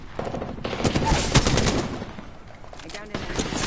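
Rapid, automatic-style gunfire rattles through a PS4 shooter match, with bursts clustered early and a few later volleys; a voice talks faintly underneath.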